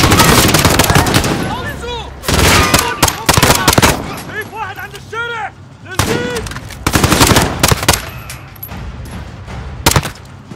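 Machine gun fire in Call of Duty: Modern Warfare, loud repeated bursts of automatic gunfire with gaps between them, mixed with shouted voices speaking Italian.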